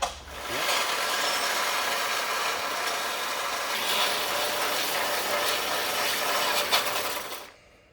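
A wrench clicks and ratchets steadily for several seconds on the hurricane-flooded Ferrari engine, a close, continuous mechanical rasping with no talk over it.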